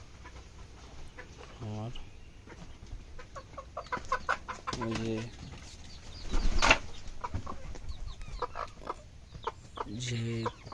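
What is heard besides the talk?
chickens and rooster clucking on a poultry farm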